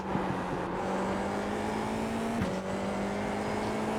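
A race car engine in a racing video game hums steadily and loud, with a sharp pitch drop about midway as it shifts down while slowing, a continuous close drone throughout.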